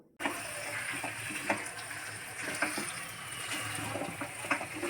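Chicken pieces sizzle steadily in a pan as they are stir-fried with spices and masala. A continuous frying hiss holds throughout with faint clinks of stirring.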